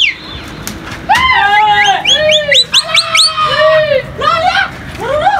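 Several pigeons call close by in quick overlapping bursts, with rising and falling whistled notes and brief rustling between them.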